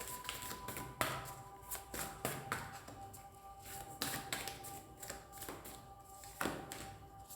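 Tarot cards shuffled and drawn close by during a love reading, a quiet, continuous stream of soft riffling and tapping clicks with occasional sharper snaps, no voices.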